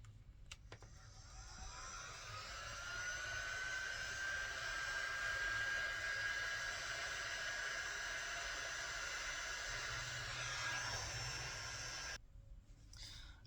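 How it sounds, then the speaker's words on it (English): A heat gun blows a steady whooshing hiss close by while melting candle wax, running evenly for about twelve seconds before cutting off abruptly, with no talking. "I'm going to take this heat gun that I have here, and I'm going to use it to melt the wax down"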